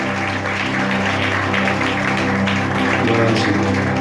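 A church congregation applauds steadily, a continuous wash of clapping over sustained organ or keyboard chords that holds through to the end.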